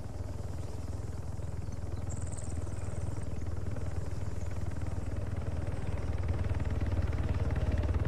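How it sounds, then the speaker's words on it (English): A helicopter approaches in the Arma 3 game, its low rotor thump and engine drone steady and gradually growing louder, with no voices over it. "The chopper is approaching."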